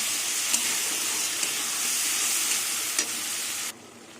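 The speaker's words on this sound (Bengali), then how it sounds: "সব কিছু দিয়ে ভালো করে আবার একটু কষিয়ে নেব একটু জল দেব" Spices with chili powder and a splash of water sizzle and hiss steadily in a pan as they are stir-fried for a potato and prawn dish, with a few soft scrapes, before the sound cuts off abruptly.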